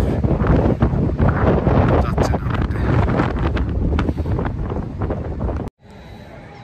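Strong wind buffets the microphone at Coney Island beach in Brooklyn, a loud continuous roar that cuts off abruptly near the end, with someone speaking over it.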